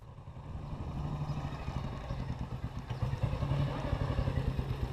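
Vintage motorcycles, one fitted with a Garrard sidecar, rumble close by with a steady, throbbing engine note as they pull away together.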